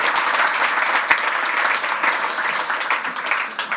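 Audience in Geneva applauding a round-table panel at an evening televised event, dense continuous clapping that stays loud before easing slightly at the close, with no voices over it.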